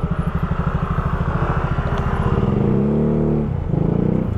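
A Yamaha Mio Sporty motorcycle engine runs steadily with a pulsing low drone while riding over a badly damaged road toward Tagaytay, loud and close, with a brief dip and recovery near the end.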